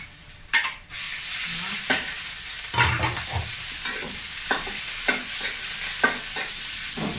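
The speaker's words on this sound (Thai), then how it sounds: "ใส่น้ำมันลงไป ใส่กระเทียม ใส่กระเทียมลงไปผัด แล้วก็ใส่หมูค่ะ" Pork and garlic stir-fry in hot oil in a pan, with a steady loud sizzle broken by repeated scraping stirs of a utensil, close and alone without talk.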